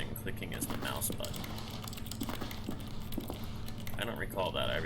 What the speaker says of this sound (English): clicking is the mouse button